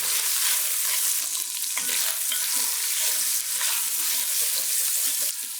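Minced garlic, freshly grated on a rasp, cooks in a pot for chili. A steady, close sizzle runs throughout, with soft stirring scrapes over the hiss and no voices.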